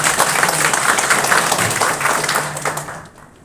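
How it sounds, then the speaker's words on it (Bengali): An indoor audience at a hotel cultural event in Cox's Bazar applauds to welcome a guest, loud dense clapping that carries on steadily and then fades away at the end. "করতালির মাধ্যমে স্যারকে আমরা"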